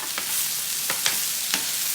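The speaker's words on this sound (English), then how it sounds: "it's sizzling, all the vegetables." Chicken fajitas and vegetables sizzle steadily on a hot plate, a constant frying hiss with a few brief sharper crackles and stirring clicks, close and alone without talk.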